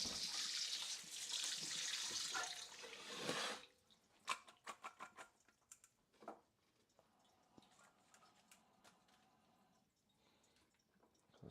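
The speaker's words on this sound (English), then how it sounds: "How do I even fucking wash this?" A kitchen tap runs loudly and steadily while something is washed under it during cooking. The water then shuts off, leaving scattered drips, clinks and light handling noises close by.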